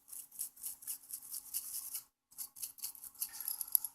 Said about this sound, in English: When you have an old worn-out toothbrush like this one, it's good to hang on to them because they're great for cleaning small parts.